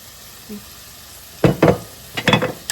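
Yellow onions frying in a pan, with a steady low sizzle under a few louder scraping stirs in two short clusters, near and alone without talk.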